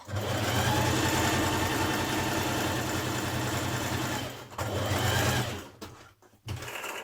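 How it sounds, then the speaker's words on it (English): A sewing machine hums steadily at close range, running two long lines of ease stitching on a sleeve for a New Look 6543 summer top, with a brief pause before the motor picks up again. "So now you're going to do 2 lines of stitching here."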